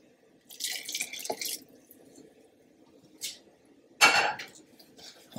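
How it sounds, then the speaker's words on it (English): A spoon clinks and scrapes in a bowl as boiling water is stirred into a Hershey's chocolate cake batter, with sporadic close clatter, a wet splash and quiet gaps. "it says to stir this in, so we will be stirring this in"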